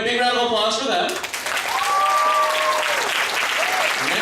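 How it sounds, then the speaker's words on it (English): Audience at an anime convention masquerade breaks into loud, dense applause that swells suddenly after an announcer's voice and keeps going steadily, with a few whoops rising above the clapping. "big round of applause for them."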